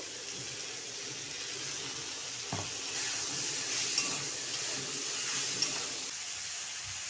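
Dal ingredients with ginger and salt are mixed together in a pot, giving a soft, continuous scraping and stirring hiss, faint and steady with a couple of light knocks.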